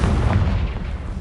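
A Confringo fire spell in the Hogwarts Legacy video game bursts into a loud, dense explosive boom that rumbles on steadily through the whole moment, heavy in the low end with no voices over it.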